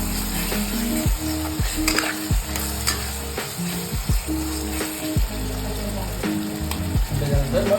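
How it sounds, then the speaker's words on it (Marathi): Tomatoes fry and soften in a pan for a methi-potato curry, sizzling steadily while a spoon stirs and scrapes at roughly one-second intervals. "टमाटर चांगले शिजून आपल्याला मऊ करायचे"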